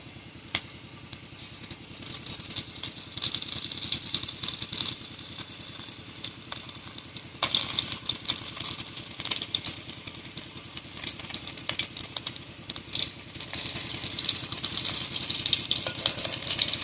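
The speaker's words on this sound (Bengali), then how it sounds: "একদম হালকা আঁচে ভাজতে হবে উনুনে।" Amudi fish pakoras fry over a low flame, giving a steady close bubbling sizzle with a faint mechanical hum beneath, growing louder and busier toward the end.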